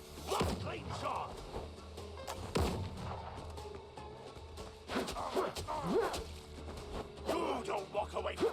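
Gunshots in the video game Windrose: several loud booming shots spaced irregularly over a busy game soundscape with rustling and thuds.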